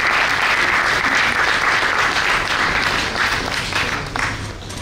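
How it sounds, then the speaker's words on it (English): A hall audience at a law college panel discussion in Mumbai breaks into steady, dense applause, loud and continuous for several seconds before easing slightly at the end. "A great round of applause for Mr."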